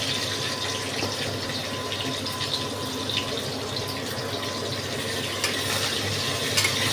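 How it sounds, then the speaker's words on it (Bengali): Two large chopped onions fry in hot oil in a pan for a prawn and jackfruit curry, giving a steady, close, even sizzle with faint stirring scrapes and no talking. "তেল গরম হয়েছে, এই সময় আমি দুটো বড় পেঁয়াজ কুচি এর ভেতরে দিয়ে দিলাম।"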